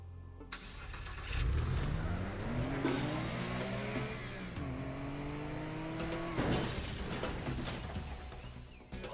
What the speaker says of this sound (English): Well, there went that car.